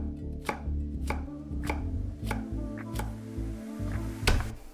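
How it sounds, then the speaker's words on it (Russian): A knife slices bell pepper into thin strips on a cutting board for a Korean-style wood ear mushroom salad. About eight crisp, evenly spaced chops land close and clear, with no talk. "А далее также нарезаем соломкой."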